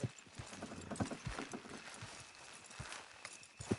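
Horse hooves clopping in Red Dead Redemption 2, a quiet, steady run of close hoofbeats at a walking pace with no voices over them.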